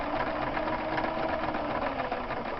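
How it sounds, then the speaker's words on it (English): A Singer sewing machine runs continuously while sewing a zigzag stitch, giving a steady, close mechanical whir with a fast rhythmic needle clatter. "as I'm sewing a zigzag"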